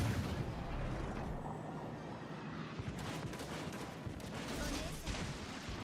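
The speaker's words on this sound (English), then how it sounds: "this is going to be all about HE fire" Naval guns in World of Warships Legends fire high-explosive shells in a continuous rumble of booming volleys and crackling blasts, with denser salvos in the second half.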